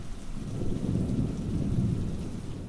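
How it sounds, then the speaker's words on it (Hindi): Heavy rain pours down steadily in a dense, continuous low roar that stays loud and even throughout, with no voices. "इस बार बारिश थोड़ी तेज थी"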